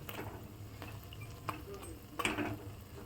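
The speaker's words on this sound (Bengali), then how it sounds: "এভাবে দুই পাশই ভালো করে ভেজে নেবে" Homemade naan fries in oil in a pan, with a faint sizzle under a few sharp taps and clicks from a spatula against the pan.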